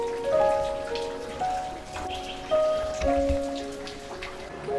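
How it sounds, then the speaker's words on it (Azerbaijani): Spring water drips from rock cliffs inside the Damcili cave at the Avey reserve in Qazax, Azerbaijan, scattered clear plinking drops falling irregularly at close range, echoing faintly over a quiet background. "su 980 metr hündürlükdə olan qaya daşlarından süzülərək damcı-damcı yerə tökülür"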